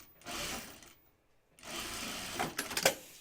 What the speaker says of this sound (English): we're going to sew this right sides together